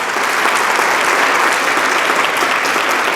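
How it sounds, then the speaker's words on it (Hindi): A church congregation at a Hindi Friday fasting prayer service claps loudly and continuously in a dense, even wash of applause, with no voices over it. "जोर से एक बार परमेश्वर को ताली बजाइए"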